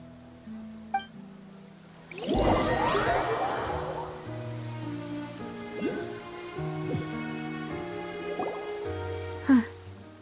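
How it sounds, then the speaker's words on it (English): Steady rain falls in the video game Genshin Impact, a soft patter under a gentle melodic score with plucked and sustained notes and a brief swell partway through. "It's been raining non-stop for a few days now."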